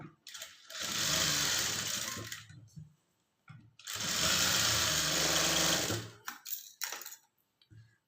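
A sewing machine stitching blouse fabric runs in two loud bursts of rapid whirring, each around two seconds, separated by quiet pauses and followed by a few short clicks and handling sounds.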